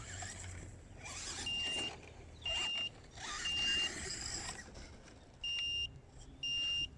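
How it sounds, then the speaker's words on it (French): A Corally Triton brushed RC car's remote control transmitter emits repeated high-pitched electronic beeps in regular bursts of about a second, alternating with quieter gaps and faint motor whine. "Oh le bip de la télécommande c'est affreux."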